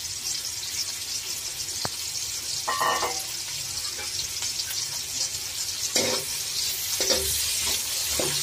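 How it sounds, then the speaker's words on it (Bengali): Chopped onions fry in oil in a wok, giving a steady hiss of sizzling with intermittent scraping and stirring strokes and no voices. "এখন এতে পেঁয়াজ কুচিগুলো ছেড়ে দিব।"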